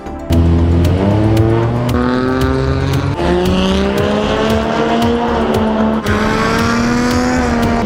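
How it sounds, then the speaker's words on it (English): A Toyota Cresta drag race car launching down the strip, its loud engine revving hard through rising gear pulls with brief drops at each shift, sustained and close with no voices. "It is a perfect day for drag racing."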